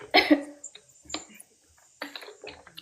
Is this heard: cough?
yes